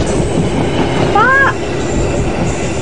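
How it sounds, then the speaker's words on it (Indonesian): A train passes in the Indonesian horror video game Misteri Desa Meraung: a steady rolling rumble with a brief high squeal near the middle, and a single short word spoken over it. "Kedengaran suara kereta dari jauh."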